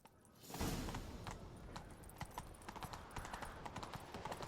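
Horse galloping in The Witcher 3, a rapid clip-clop of hooves that kicks in after a quiet start and keeps a steady, fairly soft rhythm with no talk.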